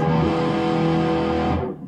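A mellow, darker-toned electric guitar chord, played with the tone knob turned fully down, treble rolled off, sustains close and loud, then fades away near the end.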